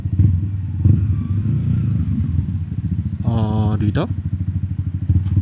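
A motorcycle ridden toward the town proper of Aritao produces a steady, close engine rumble throughout, while someone speaks briefly over it and a short horn-like tonal beep sounds near the middle.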